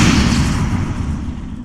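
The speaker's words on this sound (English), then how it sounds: "Explosion!" A fireball spell explodes in Dragon Age, a loud broad rumbling boom that starts strong and slowly decays over under two seconds, heard alone without voices.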